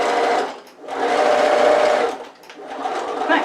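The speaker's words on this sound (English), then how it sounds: "Back stitch just to lock all those stitches in place." A sewing machine runs in short bursts while back stitching the straps of a fabric tote bag, its steady whirring motor stopping and restarting several times, close and loud.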